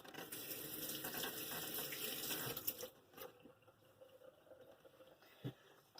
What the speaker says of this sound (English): Now I gotta wash my hands off.